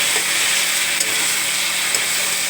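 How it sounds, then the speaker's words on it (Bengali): Onion with ginger and garlic paste being sautéed in a pan for a mutton curry, a close, steady frying sizzle and hiss with faint stirring, continuous and even throughout. "ভালো করে কষিয়ে নিচ্ছি"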